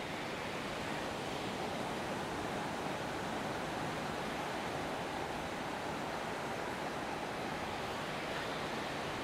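Continuous roar of ocean surf washing onto the shore at Del Mar, California, a steady broadband rush with no distinct pauses, no voices.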